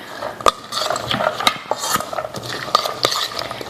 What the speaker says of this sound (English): we're going to give this just a little stir around